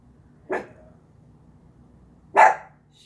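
A dog barks outdoors, two separate loud woofs about two seconds apart over quiet background hiss.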